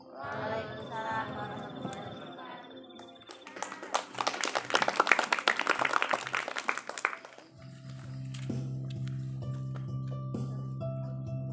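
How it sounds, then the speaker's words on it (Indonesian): Applause from an audience at a muhadoroh akbar (Islamic speech event) opening in 2023, a loud burst of clapping in the middle, preceded and followed by speech and background music. "Tepuk tangan kepada Ananda Syafiq yang telah memaparkan izin"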